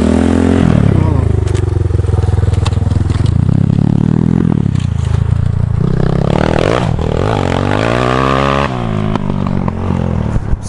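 A KaYo 250 T4 dirt bike engine revs hard on a hill climb, loud and close, its pitch rising and falling through throttle bursts with some scraping and clatter over about ten seconds.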